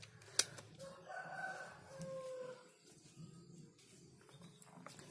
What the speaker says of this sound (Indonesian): jadi di rumah saya itu masih banyak ayam berkeliaran secara liar ini.